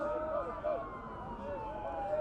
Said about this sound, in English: You can hear on the parabolic mic some ambulances going by and maybe some policemen.